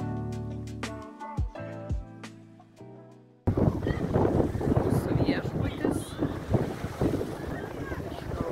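An excursion boat on the sea off Tivat, Montenegro, heard as continuous wind-buffeted water and engine rumble after a short stretch of music at the start.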